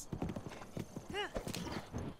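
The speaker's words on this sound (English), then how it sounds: "This is a horse Korok where you must race over some hurdles with a" A horse in Zelda: Breath of the Wild gallops with quick, steady hoof clip-clops and lets out a whinny midway, all under a person talking.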